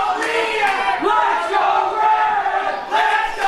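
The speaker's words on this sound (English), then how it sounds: "the crowd cheering for Leiter as requested by Revelation" A wrestling show crowd cheers and chants loudly together, a sustained roar of many voices rising and falling in waves.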